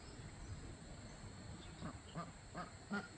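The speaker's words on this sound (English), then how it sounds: "We got some ducks under the A-frame pallets." Ducks tucked beneath A-frame pallets on a small farm, giving a few soft, scattered quacks that grow slightly more frequent toward the end, faint and somewhat distant over quiet outdoor background noise.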